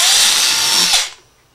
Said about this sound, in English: I'm going to drill 1/8 inch hole at the top center of this side